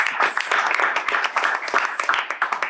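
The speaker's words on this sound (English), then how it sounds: "we'll give a round of applause to our panelists" Scattered applause from a small symposium audience for a panel, with individual claps audible as uneven bursts rather than a dense wall of sound.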